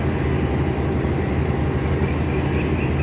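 Pakistan Railways 36 Down Sir Syed Express pulling into Karachi Cantonment station, a steady loud rumble of rolling wheels and carriages close by, continuous with no voices.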